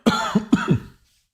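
A short burst of harsh coughs, three or four in quick succession, close and loud, then silence.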